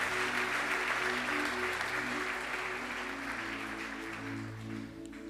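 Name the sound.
congregation cheering and applauding loudly for the Lord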